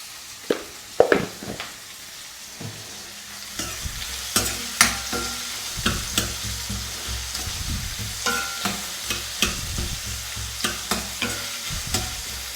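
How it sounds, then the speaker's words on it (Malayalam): Mutton stew ingredients sautéing in a pan with a sprinkle of powdered salt, a steady sizzle under repeated stirring scrapes and clacks that come in a regular rhythm, close and moderately loud. "ഇച്ചിരി വഴന്നു വരട്ടെ."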